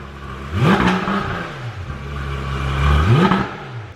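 A Porsche GT3 RS engine revs hard twice, rising sharply and falling back to a low idle between the loud bursts.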